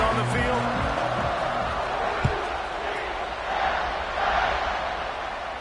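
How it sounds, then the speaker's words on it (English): A college football stadium crowd roars as a kickoff approaches, a dense, steady wall of cheering that swells louder near the end, with a single sharp thud partway through. "You think this crowd's going to get loud when their defense comes on the field?"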